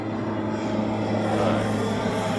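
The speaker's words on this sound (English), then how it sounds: "Alright, that is a United. Heading off to SFO." A United airliner departing Honolulu for San Francisco, its engines a steady, broad roar heard from a distance with no break across the moment.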